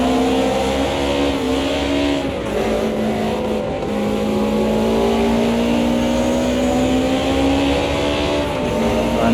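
Race car in the racing game Automobilista 2 on a wet track, engine braking with a loud, continuous engine whine that steps down in pitch as it slows; no talking.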